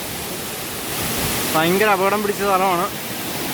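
A waterfall at a hidden forest trekking spot roars as a constant loud rush, and someone talks over it partway through.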